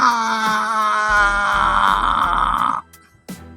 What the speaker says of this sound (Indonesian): Anak buah Tapak Luwing menjerit keras ketika obor itu disodokkan ke mata kanannya.